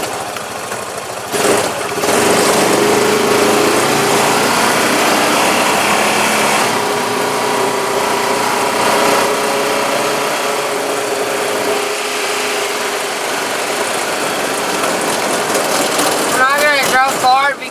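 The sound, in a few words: four-wheeler engine driving around neighborhood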